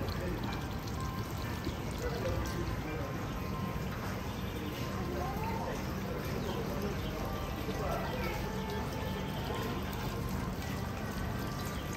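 Steady rush of splashing, pouring water from an overflowing fountain at Chatuchak market, Thailand, runs throughout, with faint voices and some bird-like chirps in the background.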